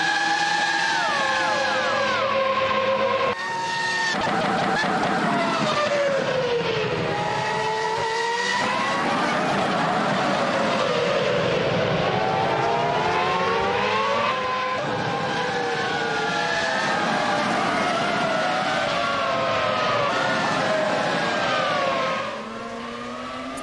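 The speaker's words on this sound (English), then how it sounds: "we can also get to listen to some of the engine sound" Formula racing cars in the rFactor 2 simulator at Zandvoort scream past with high, rising and falling engine notes and rapid gear changes, several cars layered loudly together with no talk.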